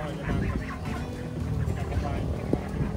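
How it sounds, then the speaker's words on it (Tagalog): Duck calling on a goose and duck farm, with repeated raspy fowl calls and gobbling squawks at close range over a busy background of other birds, no talking. "Yun ang bibe."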